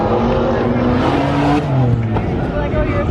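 A 2020 Kia Telluride engine revs loudly at the 2018 SEMA Show, its pitch rising and falling in a continuous roar. Voices can be heard over the engine.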